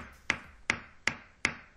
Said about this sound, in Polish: A, co to za dźwięk? To brzmi jak młotek.